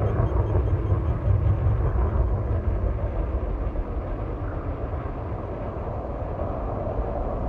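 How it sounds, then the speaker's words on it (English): Spaceship landing gear deploying in Elite Dangerous, a steady low mechanical rumble and hum that holds evenly for several seconds, fading slightly toward the end, with no talk over it. "Landing gear deploy."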